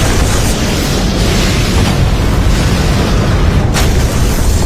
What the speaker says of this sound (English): Massive secondary explosions.